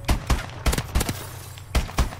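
Rapid rifle fire from the MK-14 in Call of Duty Advanced Warfare: seven loud, sharp shots in irregular pairs and singles, close and punchy, with no talking.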